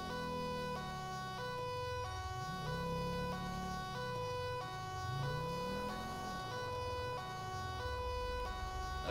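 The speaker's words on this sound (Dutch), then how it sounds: "Ik laat even mijn sirene aan." A police car siren in GTA 5 with the LSPDFR mod wails continuously at the scene of a major crash. Rising and falling sweeps cut against a steady tonal pattern, loud and close, with no talking.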